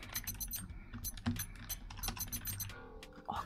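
Rapid typing on a computer keyboard: continuous clattering keystrokes, close and fairly loud, in an uneven stream that thins out briefly near the end before picking up again.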